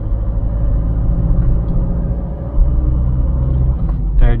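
A car engine hums loudly and steadily, rising in pitch as the driver accelerates and shifts up through the gears with paddle shifters in manual mode, with a brief dip at each change.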